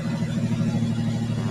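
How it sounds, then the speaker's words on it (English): A straight-piped Ford Ranger pickup truck idles with a steady, loud, low throbbing exhaust rumble, nearly even throughout with no sharp rev spike. "Give us a little rev."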